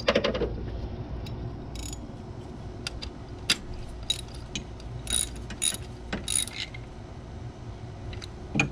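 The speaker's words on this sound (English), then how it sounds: "bolt it into place so we know it's all done" Clicking ratchet and socket work as bolts are tightened to secure spark plug cables on a Pontiac Vibe / Toyota Matrix / Corolla engine, with repeated close metallic clicks and light clinks in a steady rhythm, no talk.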